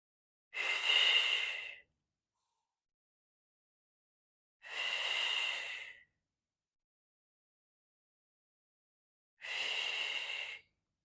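Deep, audible breaths during a core exercise session: three long, airy inhale-exhale sounds, each about a second long, spaced several seconds apart with silence between, close and fairly quiet, with no talking.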